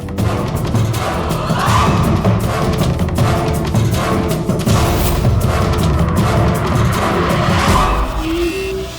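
Sharp rifle gunshots crack out one after another, echoing as booms over a continuous low rumble.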